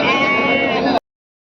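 A lamb gives one loud, close, wavering bleat at a weekly sheep and goat market, cut off abruptly after about a second.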